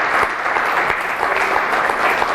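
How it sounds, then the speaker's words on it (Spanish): A congregation at an evangelical convention in Mendoza, Argentina gives loud, sustained applause, a thick steady roar of many hands clapping close by, with no speech over it. "Vamos a darle un aplauso al Rey de Reyes y Señor de los Señores."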